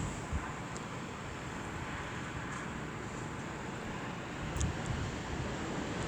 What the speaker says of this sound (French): là, c'est les plus petites rafales